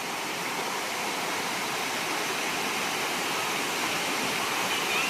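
Hosadevata waterfall at Melinaguli near Ankola roars in a constant, dense rush of falling water, loud and unbroken throughout with no voices.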